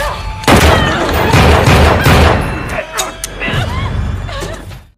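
Gunshots in an action-film scene from Parker, a burst of loud booming shots and crashes close together, then a few sharper cracks, mixed with other scene noise.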